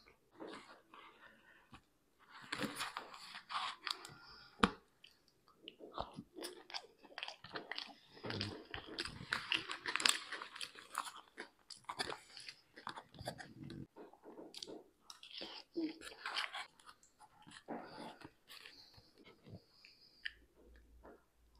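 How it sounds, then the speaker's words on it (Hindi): Close, wet chewing and crunching on a last bite of pizza, irregular bites and mouth sounds with soft breathing, fairly quiet and without talk. "Last bite."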